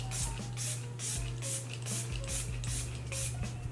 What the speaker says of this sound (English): You guys know I'm a 2 setting spray type of gal, so I'm gonna use my Makeup Revolution.